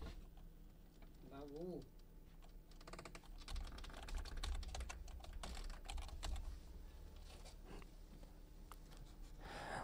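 Computer keyboard keys tapped in bursts while a six-digit e-sign PIN code is entered for CSC e-sign registration, close and crisp clicking over a steady room hum, with a brief faint chirp early on.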